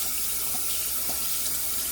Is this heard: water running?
yes